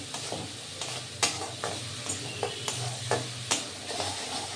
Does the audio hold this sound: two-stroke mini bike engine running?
no